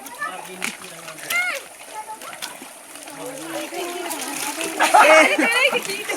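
Cold water splashes and trickles outdoors in a village, with children and adults chattering over it throughout and a burst of louder splashing near the end.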